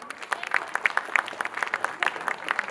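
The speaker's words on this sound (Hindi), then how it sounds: "जोरदार ताली बजाइए अशोक जी के लिए" At a Holi gathering in Patna, a small crowd claps for a guest named Ashok, giving a close burst of uneven, overlapping hand claps that persists throughout.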